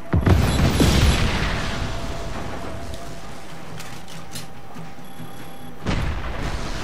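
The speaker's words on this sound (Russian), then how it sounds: "Взрываем." A loud, sudden boom from an explosion in the video game Just Cause 3 bursts out and fades into a long rumbling tail, followed by a low steady hum and another swell near the end.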